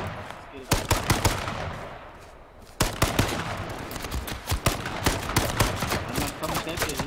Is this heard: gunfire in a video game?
yes